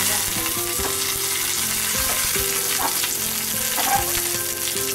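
Mustard seeds, peppercorns, cumin and a dried red chilli sizzle in a spoonful of hot oil for buttermilk kuzhambu, a loud close crackling fry with occasional stirring scrapes, alone without talk.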